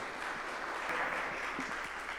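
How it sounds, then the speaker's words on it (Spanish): An audience welcomes a speaker on resilience with applause, a soft, even patter of clapping heard from some distance, steady and without voices. "Recibámoslo con un fuerte aplauso."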